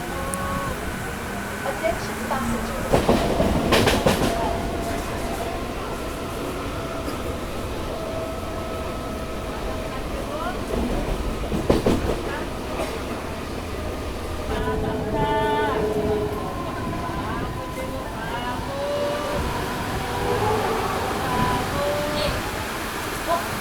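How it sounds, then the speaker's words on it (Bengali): Howrah to Bandel local train pulling out through Chinsurah station in heavy rain, a steady rumble and rattle from inside the carriage, with someone talking over it and passing clatter. "ছেড়ে দিল আমাদের ট্রেন চুঁচুড়া রেলওয়ে স্টেশন দিয়ে"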